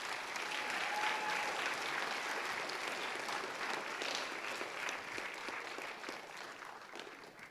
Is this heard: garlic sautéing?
no